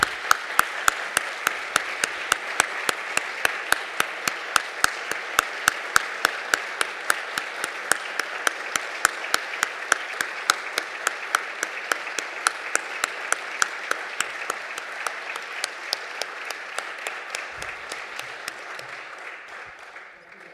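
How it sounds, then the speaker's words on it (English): Conference audience applauding, a long stretch of dense clapping with sharp, rhythmic accents pulsing through it, steady for most of the clip before tapering off and fading near the end. "Please have like a round of applause for Gary"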